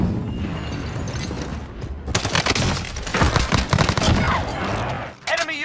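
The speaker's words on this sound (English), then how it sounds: "Be advised, friendly precision airstrike inbound." Precision airstrike in Call of Duty Warzone, with rapid bursts of gunfire and booming blasts that build into a dense, loud barrage lasting several seconds before cutting off sharply.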